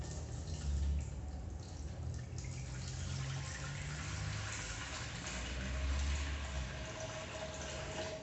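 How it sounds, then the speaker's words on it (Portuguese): Pure water is poured into a small aquarium for a chemistry demonstration, a soft, steady splashing and trickling that stays faint throughout. "Eu vou pegar essa água aqui e jogar aqui dentro"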